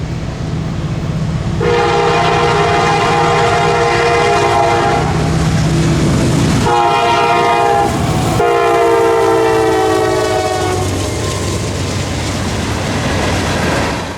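A CSX freight train led by a YN2-painted EMD SD70 locomotive passes close by, sounding its horn in several loud, sustained blasts over a steady rumble of the engine and rolling cars.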